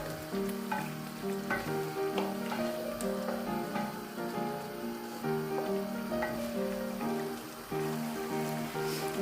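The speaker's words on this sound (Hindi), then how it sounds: "मीडियम टू स्लो फ्लेम के ऊपर गोश्त को अच्छी तरह भून लेंगे" Meat for aloo gosht fries in a pot over a medium-low flame, a continuous close sizzle with crackles and occasional stirring, no voices over it.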